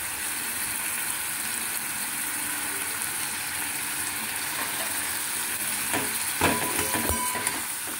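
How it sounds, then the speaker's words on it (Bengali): Cauliflower frying in a pan as poppy seeds are added and stirred in, giving a steady close hiss of sizzling oil with a few brief scraping clatters toward the end. "আবার পোস্তটা দিয়ে আবার আমাকে এরকমভাবে নাড়িয়ে চাড়িয়ে নিতে হবে।"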